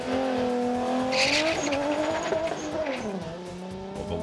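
Toyota Supra street car launching at a drag race, a loud close engine roar rising through the revs with tire squeal, holding a strong steady drone for several seconds.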